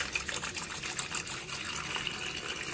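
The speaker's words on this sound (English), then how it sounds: "Now I'm just going to add water, enough to cover over the meat." Tap water gushing steadily into a pot holding oxtail meat for a Vietnamese-style beef stew, a continuous splashing fill heard close and alone throughout.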